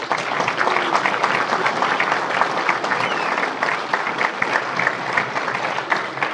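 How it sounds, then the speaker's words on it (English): Audience at a birthday celebration event applauding, with sustained dense clapping at steady loudness throughout, filling the room. "please give a big round of applause to Mr."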